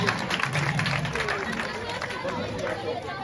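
Audience at a school excellence-day award ceremony in Diawara applauding, a dense steady wash of clapping with crowd chatter running throughout.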